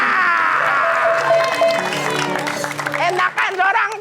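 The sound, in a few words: applause, clapping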